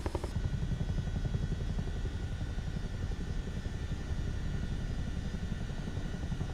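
A Chinook helicopter in Microsoft Flight Simulator 2024 produces a steady, loud, even thrum of rotor chop and engine drone, continuous with no pauses.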